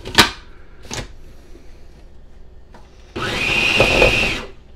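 A blender whirs through hot bouillabaisse sauce in a loud, steady burst of about a second and a half, following a few sharp knocks and clatters from handling the container.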